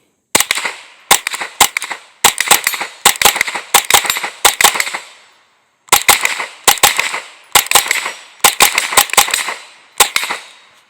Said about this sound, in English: I'm going to take a few more shots.